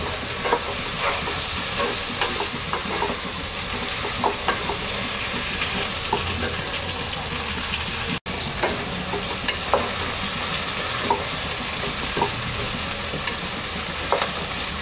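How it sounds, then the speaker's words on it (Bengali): Vegetables salted and stir-fried in a pan sizzle steadily and loudly, with scattered scraping and stirring clicks throughout and one brief dropout midway. "এবার সবজিটাকে আমরা 2-3 মিনিট কষিয়ে নেব।"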